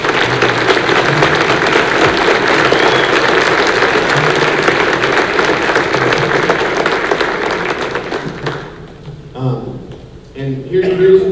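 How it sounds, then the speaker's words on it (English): An audience at a school band concert gives a sustained round of applause, loud and dense for several seconds before thinning out, with voices and talk emerging as it fades. "So please applaud them."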